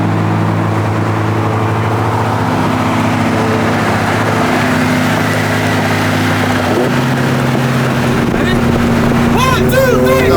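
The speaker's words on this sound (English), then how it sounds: "truck sounds tight." An 800hp Chevrolet Silverado truck engine running loud and steady nearby, a deep sustained drone with wind buffeting the microphone and faint voices toward the end.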